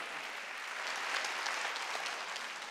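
A church congregation bursts into steady clapping during a pastor's sermon, a short, dense and even burst of applause heard alone.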